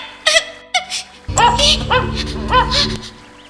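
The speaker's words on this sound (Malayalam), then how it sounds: "ഈ ശബ്ദം എന്താ? അയ്യോ, എന്റെ പിന്നാലെ ആരാ വരുന്നത്? അയ്യോ, ഒരു നായ" An animated dog barks and yips several times in short, sharp bursts, close and loud, with a whimpering quality between calls.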